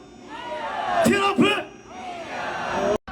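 Protesters at a street demonstration in Seoul shout and yell together, a loud massed crowd of voices rising and falling with sharp bursts of chanting and screams.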